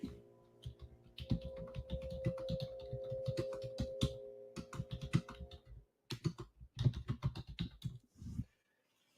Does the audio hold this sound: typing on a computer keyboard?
yes